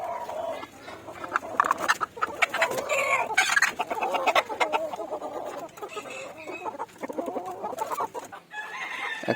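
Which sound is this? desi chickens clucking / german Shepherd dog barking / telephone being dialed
desi chickens clucking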